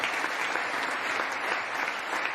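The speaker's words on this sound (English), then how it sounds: "What the hell is up with that clap?" Steady, dense audience applause at a press conference, evenly loud and sustained for the whole stretch, with no talk over it.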